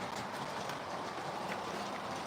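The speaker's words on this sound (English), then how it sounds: "No, it's just a heavy train." An O gauge model train runs steadily along a layout, producing a continuous, close rolling rumble with a faint clattering texture and no pauses or voices.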